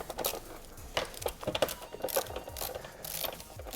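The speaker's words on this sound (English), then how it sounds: "I'm using a 10mm socket with an extension" Ratcheting clicks as 10mm fasteners are loosened with a socket and extension on a 2015+ Yamaha R3 motorcycle fender assembly, a quick busy run of close mechanical ticks and turns.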